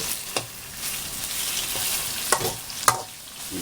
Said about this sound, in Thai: ใกล้ๆ เข้าที่แล้วเราเอากุ้งใส่ลงไปเลยครับ เพราะว่า กุ้งกับกะปิจะได้เข้าเนื้อกัน แล้วก็จะสุกไว